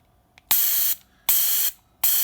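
Pressurized gas hisses through a FiZZ plug valve on a bottle cap: three loud, steady bursts of spraying hiss, each about half a second, separated by short quiet gaps, close and alone.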